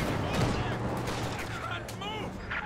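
Scattered gunfire and sniper shots crack from a Company of Heroes 2 battle, sharp reports popping over a continuous rumble of combat noise, with a voice talking underneath.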